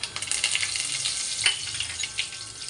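Steady, close crackling sizzle of cumin and curry leaves hitting hot oil, bright and continuous with small pops throughout, no voices.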